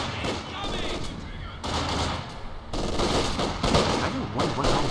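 German MG42 machine gun firing in the strategy game Company of Heroes 2, dense rattling bursts with mixed battle gunfire, loud and continuous, broken by brief gaps.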